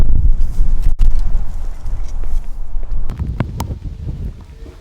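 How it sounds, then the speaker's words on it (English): Cold outdoor wind buffets the microphone at an archery range, a loud rumbling gusting roar with irregular surges and small clicks and knocks of movement, no talking. "And it's cold out here and the wind's blowing."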